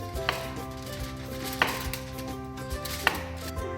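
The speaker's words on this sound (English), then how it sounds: "Now I'm just going to get a slice of chili." A knife cuts through a chili pepper on a board, three distinct chops spaced about a second and a half apart over a low background hum, close and fairly quiet.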